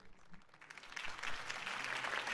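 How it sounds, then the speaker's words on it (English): Crowd applause rises from a campaign rally in the video game Batman: The Telltale Series, a dense clapping that swells after a quiet start and holds steady to the end. "If only Mr. Wayne, my campaign's largest backer, could have heard that applause"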